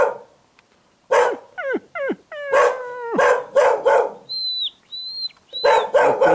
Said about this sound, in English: Look, they're still young, very young dogs.